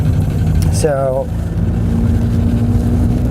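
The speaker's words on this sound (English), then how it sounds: "it's a little bit loud. I think they might have a hole in the exhaust" A 1991 Honda Accord with a hole in its exhaust runs with a loud, steady engine drone throughout, and a voice speaks briefly over it.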